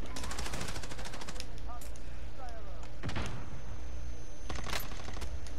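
Rapid automatic gunfire and single shots crack through a fight in the Warzone Rebirth Island video game, loud and close in repeated bursts, while players talk over it.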